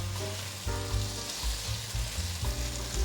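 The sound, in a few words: stir-frying bitter melon in a pan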